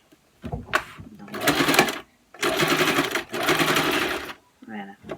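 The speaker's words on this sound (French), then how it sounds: "je préfère le faire avec une machine à coudre" A sewing machine stitches a fabric face mask in long continuous runs of rapid needle chatter, stopping and restarting between bursts, close and loud, with a few brief quieter sounds at the end.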